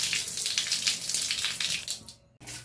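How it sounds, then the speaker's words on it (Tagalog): Water pours from a repaired shower in a steady, close hiss that cuts off abruptly near the end, leaving a brief low hum. "Inayos na yung shower."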